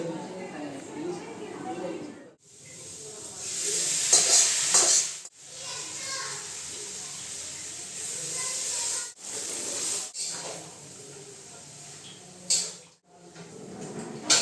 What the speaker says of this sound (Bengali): কড়াইতে চিকেন দিয়ে ছোলা দিয়ে আলু দিয়ে ভালো করে কষে নিয়ে তারপরে ছোলাটা দেবো